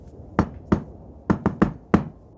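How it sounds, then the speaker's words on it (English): Knuckles rap on a door six times in an irregular pattern, with single knocks followed by a quick triple, all close and crisp against a quiet room. "knocks on the door."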